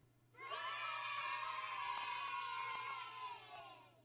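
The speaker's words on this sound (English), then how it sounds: "I'll take the cheering, even though it sounded like it came from the little kid section" A crowd cheering and shouting at an XFL football game, high-pitched like children, rising suddenly and holding loud and sustained for several seconds before fading slightly.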